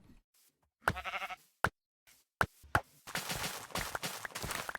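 Sheep in modded Minecraft (Vault Hunters) give several short, clear bleats spaced apart, with a few sharp clicks between them, followed by a busier stretch of game noise.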